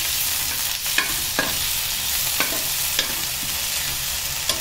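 Green chilies, garlic and mint sautéing in a pan for pudina chutney give a constant bright sizzle, and a spoon scrapes and stirs it now and then, making short clinks.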